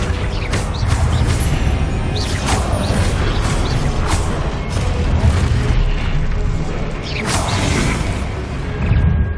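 Loud booming blasts of the Confringo explosive spell in the video game Hogwarts Legacy, several sharp bursts with whooshes over dense continuous combat noise.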